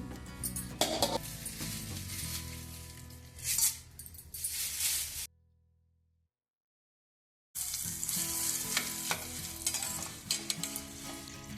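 Curry leaves crackle and sizzle loudly in hot oil with stirring and faint clinks, cut off by a couple of seconds of silence midway before the frying noise returns just as strongly.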